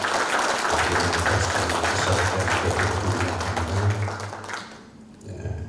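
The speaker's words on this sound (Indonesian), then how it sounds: "Mohon kiranya Bapak Ibu untuk memberikan tepuk tangan" Applause from the audience at an engineers' oath-taking and graduation ceremony, a dense wash of clapping over a steady low hum that fades out near the end.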